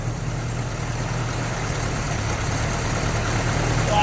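The engine of a 1984 Toyota pickup idles on its first start after a project rebuild, still without a clutch, producing a steady, loud, low rumble that holds unchanged throughout with no voices.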